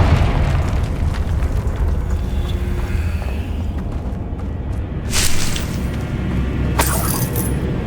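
A Confringo fire spell explodes in the Hogwarts Legacy video game, a booming blast over a dense rumbling game soundscape, with a second bright burst shortly after.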